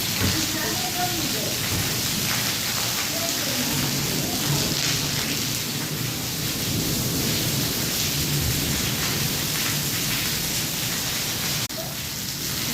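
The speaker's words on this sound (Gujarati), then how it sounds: "વરસાદ ચાલુ જ છે." Steady, dense village rain hisses without a break, with a low thunder rumble running underneath the whole time.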